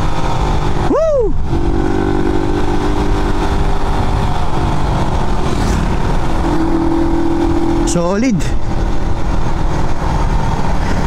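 A Raider 150 FI motorcycle with a ram air intake snaps into a quick rev at close range, settles into a steady idle, then blips again. A voice speaks briefly over the engine.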